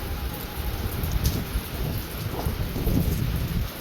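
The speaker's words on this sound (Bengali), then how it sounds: "একদম সে ঝড়ের মতো হাওয়া দিয়ে দিয়ে বৃষ্টি" Stormy monsoon rain lashes down, driven by strong gusting wind, in a dense steady roar with low rumbling underneath and a few louder bursts, close and continuous with no voices.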